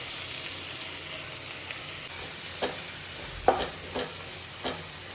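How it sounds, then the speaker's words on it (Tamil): Onions sauté in a pan for paneer butter masala, with a steady hiss of frying and several distinct stirring scrapes and taps in the second half, close and fairly quiet, without speech. "இப்போ ஆனியன் வதங்குற வரைக்கும் அந்த மாதிரி கிண்டி விட்டுட்டே இருங்க"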